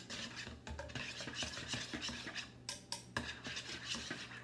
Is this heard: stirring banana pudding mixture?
yes